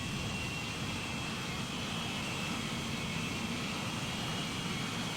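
A steady, broad jet roar from an Air France airplane flying past at an airport, holding at moderate loudness without break, alone with no voices.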